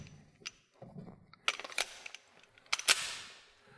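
A pistol with about 20,000 rounds through it is fired in a function test, giving a few sharp, loud reports with ringing decay and quieter handling sounds between them.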